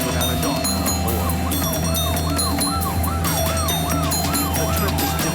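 Ambulance siren wailing in regular rising and falling sweeps during a patient transport through congested city traffic in Vietnam, loud and close over a steady engine and road rumble.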